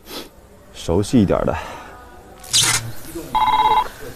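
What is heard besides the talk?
telephone ringing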